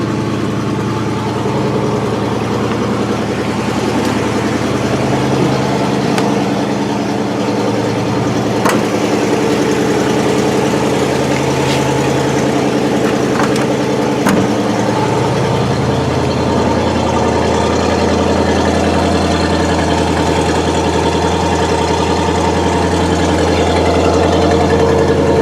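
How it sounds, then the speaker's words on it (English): A 1969 Buick Skylark V8 idles with a leak at the passenger-side exhaust manifold. The steady rumble is loud and close, with a faint ticking puff running through it and a few light knocks, and no one speaks. "You can hear it's got an exhaust leak in the passenger side exhaust manifold."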